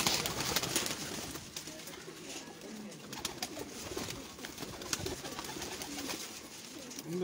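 Domestic pigeons at a loft in Sheikhupura district, Pakistan, coo steadily and close by, with soft rustling and outdoor background noise throughout and no clear talk.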